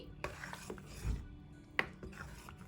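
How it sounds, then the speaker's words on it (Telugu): A utensil stirs tamarind paste mixed with four tablespoons of oil in a pan, giving faint, soft scraping with a couple of sharper clicks against the metal in a quiet room. "ఇప్పుడు మొత్తం ఒకసారి కలుపుకొని"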